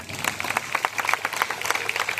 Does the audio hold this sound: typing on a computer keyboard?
no